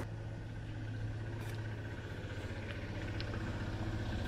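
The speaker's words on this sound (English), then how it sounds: "There's a tractor, well, a little tractor, following us down the road." A small tractor drives along a road behind, its engine a steady low rumble that holds at an even, fairly loud level throughout with faint clicks above it.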